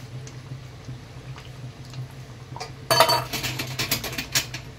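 A pan of pabda fish curry simmering with mustard-poppy paste is stirred with a utensil, bringing a burst of close metallic scraping and clinking after a quiet low simmer, with no talking.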